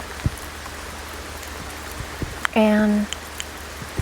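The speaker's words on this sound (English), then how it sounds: "practice not even flinching with the raindrops" Rain falling outdoors during a rainstorm, a steady patter with scattered louder drops close by, briefly interrupted by a short tonal sound and a single spoken word.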